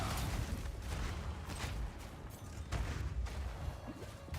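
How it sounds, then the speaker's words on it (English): Explosions and gunfire-like bursts crackle in the Path of Exile 2 action game, a dense run of repeated booms and blasts, fairly quiet and without talk. "Too many explosions."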